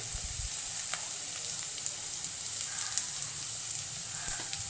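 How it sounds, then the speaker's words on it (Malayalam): Dried red chilies fry in hot oil for a fish curry, a faint steady sizzle with a few soft clicks and stirs, no talk. "അത് നമുക്കിനകത്തേക്ക് ഉണക്കമുളക് ഇട്ട് കൊടുക്കാം കേട്ടോ"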